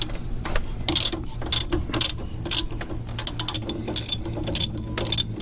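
A ratchet socket wrench undoes a Jeep JL Unlimited sway bar endlink bolt, a loud close series of rapid clicking bursts in quick uneven strokes over a low steady hum, with no voices.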